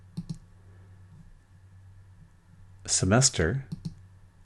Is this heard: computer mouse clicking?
yes